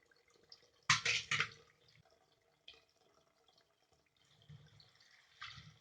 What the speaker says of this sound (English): So add enough water, guys.